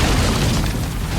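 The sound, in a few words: practical explosion in the Birds of Prey film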